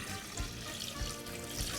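Water pours into a large cooking pot holding a whole rabbit for broth. It makes a steady, close splashing gush with a few heavier sloshes, and no one speaks.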